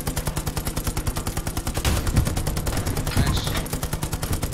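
Rapid machine gun fire in Hell Let Loose, a steady stream of evenly spaced loud bursts with heavier booms mixed in midway, dense battlefield gunfire close by.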